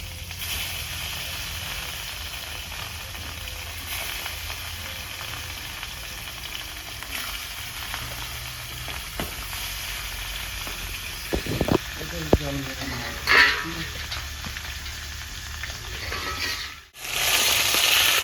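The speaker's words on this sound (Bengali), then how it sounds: "বন্ধুরা মাছগুলো দিয়ে দিচ্ছি" Pieces of rohu fish fry in hot oil in a village-style kitchen, giving a continuous crackling sizzle with occasional sharp clatters and scraping from handling.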